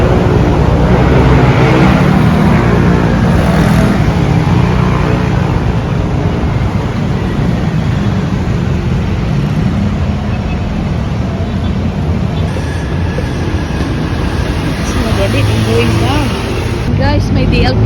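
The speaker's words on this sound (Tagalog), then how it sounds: "Grabe guys, daming sasakyan." Busy city road traffic with many cars passing near a pedestrian footbridge along Timog: a loud, continuous roar of engines and tires fills the whole stretch with no pauses.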